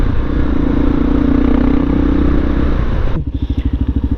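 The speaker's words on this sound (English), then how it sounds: "this kind of bike is really good for urban riding because of the suspension" A Yamaha Super Tenere adventure motorcycle ridden in town, with a loud steady engine drone and rushing wind, then a sudden drop to a low, pulsing idle near the end, no voices.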